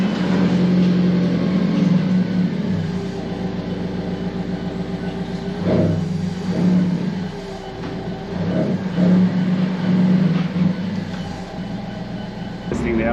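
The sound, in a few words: Alfa Romeo 4C driving after camber adjustment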